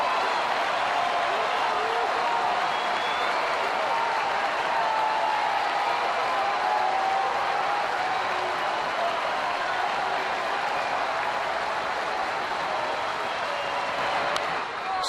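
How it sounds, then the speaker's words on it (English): Capacity crowd at a Cleveland at Boston baseball game rising to its feet in the ninth inning, a broad steady roar of cheering and applause filling the ballpark, with an announcer talking over it. "Capacity crowd coming to their feet here in the ninth."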